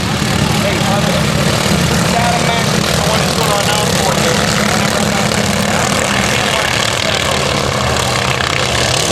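Mini wedge race cars roar off the line together at the start of a four-lap heat race on a speedway, their engines a loud, steady, dense drone with a public-address voice talking over it.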